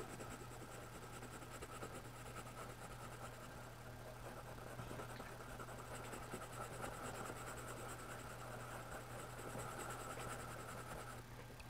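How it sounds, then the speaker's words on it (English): A colored pencil scratches steadily across paper, coloring a small area of a bee drawing twice over. Soft, continuous rasping strokes carry on throughout over a faint low hum, with no talk. "I'm coloring it in twice because I have such a small little space here."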